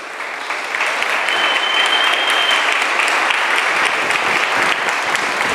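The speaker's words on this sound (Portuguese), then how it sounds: "Você pode aplaudir o Senhor Jesus?" A church congregation applauds during a sermon, a loud, sustained mass of clapping with no let-up, and a faint high whistle-like tone drifts through the middle of it.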